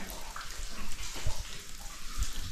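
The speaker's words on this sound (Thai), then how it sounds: "จุดตรงนี้ก็เป็นจุดที่น้ำไหลลงมาจากทั้งเทิง" Water running down over a rock face at a spot near Vang Vieng, a steady broadband rushing wash heard up close and continuously, with a few low bumps and no talk.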